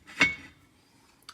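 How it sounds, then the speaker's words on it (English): A metal lid is set back onto a soup pot on the stove, one sharp clink with a short ringing tail, then a faint tap near the end. "and put the lid back on"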